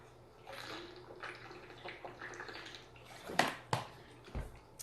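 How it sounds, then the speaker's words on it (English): Someone drinks water in a quiet room: soft sips and a couple of louder gulps and swallows near the end, close to the microphone, with faint rustling between them. "I'm going to drink some water."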